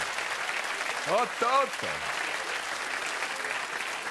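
A football crowd applauds a good play, with steady clapping throughout as a voice briefly exclaims over it.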